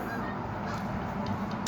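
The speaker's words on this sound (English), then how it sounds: "The geese are really loud now." A flock of geese honks loudly and continuously outdoors, the calls blending into a dense, noisy outdoor wash with no speech.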